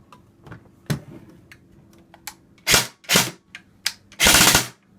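A repaired JG M4 RIS CQB airsoft electric gun test-fires in short bursts: a few single snaps, then several loud rapid-fire strings, with the longest burst near the end, close and dry in a quiet room.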